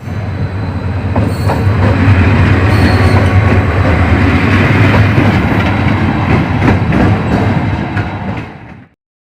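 Train at Landhi Junction railway station in Karachi, a loud, close rush of rolling wagons with clattering wheels and squealing, continuous until it cuts off abruptly near the end.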